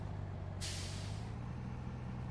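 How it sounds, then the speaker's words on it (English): A truck's air brakes in the Farming Simulator 19 video game release a single loud hiss that lasts about half a second over a steady low engine drone. "This truck could use better brakes as well."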